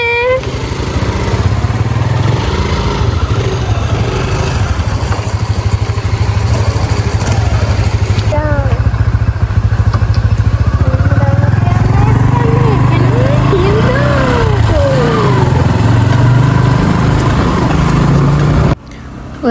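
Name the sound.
motorcycles starting and riding off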